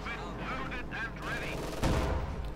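Pak 40 anti-tank gun fires in a Company of Heroes 2 battle, one heavy boom near the end over ongoing game noise and distant combat sounds.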